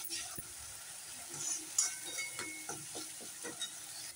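A spoon stirs fried tomato in a pan for a spicy banana and potato dish. Soft scraping taps and clinks sit over a faint, steady sizzle, with low background noise.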